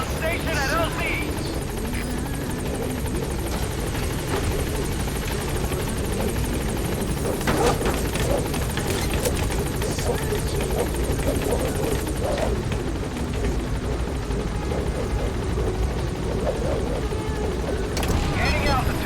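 B-Quad support helicopter from Metal Gear Solid V arriving at a landing zone, steady close rotor thrum and engine whine throughout, with game radio voices over it.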